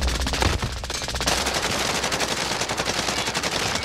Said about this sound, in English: Everybody's shooting.